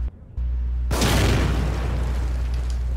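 A gunshot sets off a trap in The Evil Within, bursting into a loud, close boom after a brief quiet moment, followed by a sustained rumbling blast that lingers for a couple of seconds.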